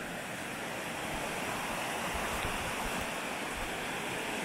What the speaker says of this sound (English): bit of fast running water.